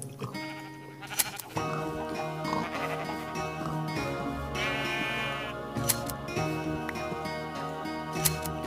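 Sheep in the Minecraft video game bleat several times over a steady backdrop of in-game music, the short electronic-sounding bleats rising above the tones.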